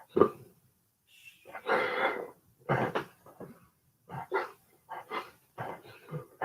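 A dog indoors barks and yips in short bursts between snorts and whimpers, fairly close, with quiet gaps between the barks.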